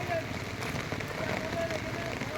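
Rain falls steadily near an airport in Dubai, a continuous close, broadband hiss with a few faint voices beneath it.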